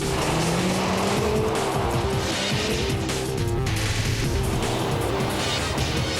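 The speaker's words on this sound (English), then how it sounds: "tight bend here, sliding its way through, applying power where it's needed, lifting off where it's needed" Volvo all-wheel-drive car sliding through a tight bend, engine revving and tires squealing steadily throughout, power applied and lifted in turns, loud and sustained.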